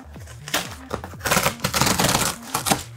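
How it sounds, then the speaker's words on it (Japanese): A new MacBook Air with M3 chip being unboxed: crinkling packaging, sliding cardboard and scattered taps and clicks, moderately close, with a brief voice at points. "それでは開封していきましょう"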